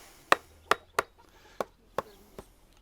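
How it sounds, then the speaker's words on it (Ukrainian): Six sharp wooden knocks at an uneven pace as wooden wedges are hammered into a honey press, each a crisp close thud with quiet pauses between. "А потім збоку забиваємо клиння"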